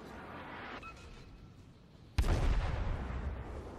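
Naval gunfire booms in the World of Warships video game, a low rumbling background giving way to a sudden heavy artillery blast that rolls on loudly for over a second.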